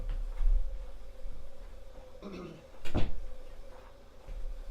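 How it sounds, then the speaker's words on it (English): A door is pulled shut indoors, giving a soft rustle followed by one sharp wooden thud, heard close amid light room noise with no speech. "I gotta close the door"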